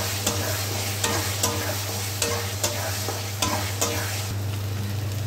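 Chicken marinated in sour yogurt sautéing with ginger, garlic and onion in a pan, a steady sizzle broken by repeated sharp scrapes of a spoon stirring, close and fairly loud with no talking.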